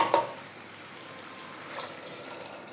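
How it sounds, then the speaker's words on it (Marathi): Water runs and splashes steadily into a small pressure cooker of sautéed chickpeas, with a brief clatter at the start and no voices. "आता याच्यात पाणी घालूया."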